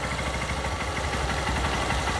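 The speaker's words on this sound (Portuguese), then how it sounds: "A moto tá funcionando direitinho." Honda Titan 150 motorcycle running on gasoline vapor instead of a fuel tank, a steady close idle with an even low throbbing rhythm and no voices.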